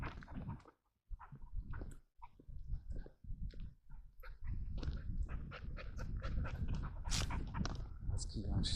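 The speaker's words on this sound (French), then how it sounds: "Est-ce qu'il y a un chien ou pas?" A dog pants heavily and whimpers close by on an outdoor walk, with snuffling and mouth sounds in bursts that become continuous, while people talk nearby.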